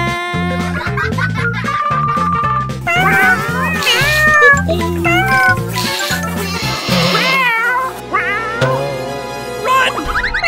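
A cartoon cat meows repeatedly over busy, bouncy music in a children's toy comedy, the mewing cries rising and falling in pitch across the clip, loud and close.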